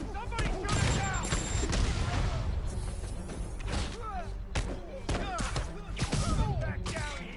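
Gunfire from enemies in the video game Marvel's Spider-Man, sharp shots and bursts scattered through a dense, loud combat mix, with voices shouting over the action.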